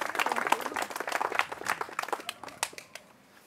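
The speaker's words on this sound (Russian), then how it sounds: "Хлопаем." Scattered audience clapping at a carp fishing championship award ceremony: a small group claps in quick uneven bursts that thin out and fade toward the end, fairly quiet with no talk over it.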